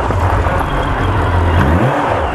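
Honda CB1300SF motorcycle engine running and revving, a loud close throaty roar with a brief rise in pitch near the end.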